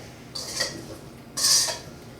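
Roasted broccoflower being tossed with garlic in a dish gives two short clattering bursts, the second louder, against a quiet background.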